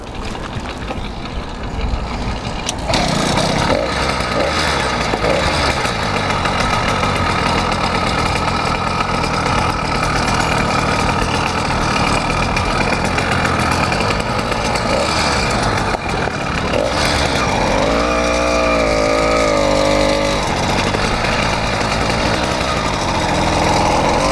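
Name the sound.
80cc motorized bike engine starting and running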